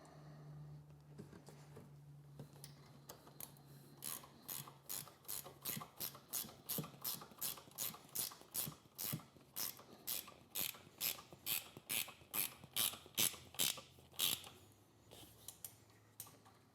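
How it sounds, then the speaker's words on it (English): A 3/8 ratchet wrench tightens handlebar bolts on a 2024-2026 Harley-Davidson Road Glide, giving a quick series of crisp, close metallic clicks in short repeated bursts, louder in the second half, over quiet background. "Use a 3/8 wrench for these."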